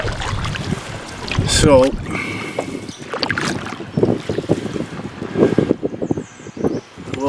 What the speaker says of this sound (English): This morning it looks like it's going to be a bit of a headwind